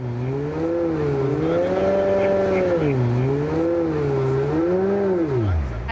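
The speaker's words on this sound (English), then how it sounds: "But where has the weird V8 sound come from?" A deep, rumbling simulated V8 engine note from an electric Smart car, rising and falling as if revving, loud and close, with a synthetic, smooth tone.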